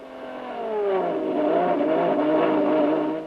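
A 1973 Matra 660 race car engine revs steadily on a cold first test lap, its pitch climbing and then holding in a droning whine, fairly close and continuous for a few seconds.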